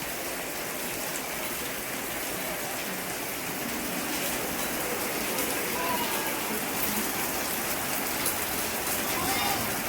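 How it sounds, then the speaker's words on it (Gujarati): Heavy, unbroken monsoon downpour over a street with closed shops and waterlogged roads, a thick constant roar of rain close by that runs the whole time with no letup. "તો એક ધારો વરસાદ ચાલુ છે"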